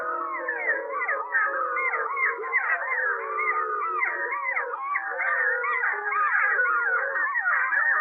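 A large wolf pack chorus howl with puppies joining in: many overlapping wavering howls and yips of varied pitch, dense and continuous throughout, with no talk.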